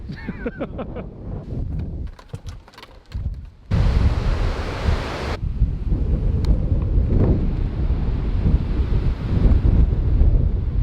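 Gusty wind on an open golf course buffets the microphone with a loud, steady low rumble, with a sharper rush of noise partway through and no talking.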